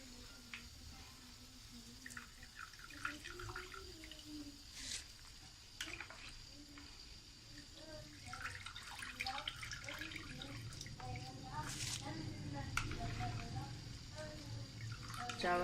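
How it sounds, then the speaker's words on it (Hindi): Rice poured into a pot of boiling water for matar pulao, with moderate watery splashing and bubbling that builds toward the end, alongside faint background sounds. "अब हम इसमें चावल ऐड कर देंगे।"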